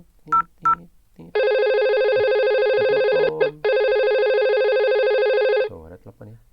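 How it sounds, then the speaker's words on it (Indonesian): A VoIP test phone on line 1002 rings with a steady electronic tone in two long bursts split by a brief gap, loud and close, with a person speaking briefly before and after the ringing. "Tuh, ada telepon ya."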